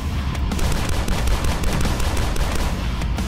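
Rapid bursts of turret gunfire in the retro shooter DUSK, a dense loud clatter of shots running continuously with booming low-end impacts and no talk.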